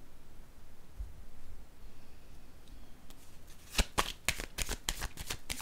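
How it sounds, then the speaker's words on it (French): Tarot cards shuffled by hand, starting quiet with soft handling, then a quick run of sharp riffling flicks and snaps close up, with no talk. "Je vais piger une autre carte."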